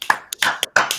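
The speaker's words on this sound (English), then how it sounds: "if I could have everybody give a round of applause for Ben Frank at Ben Frank Management" A few sharp, separate hand claps or taps at close range, in short bursts of about three strikes over a second, as an audience welcomes Ben Frank of Ben Frank Management on stage.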